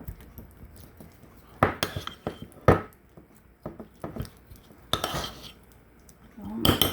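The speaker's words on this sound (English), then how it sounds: "We're just gonna give that a stir here." Melted butter being stirred with Italian seasoning, ground mustard and garlic powder in a small bowl, heard as irregular clinks and scrapes of a utensil against the dish, with quiet gaps between.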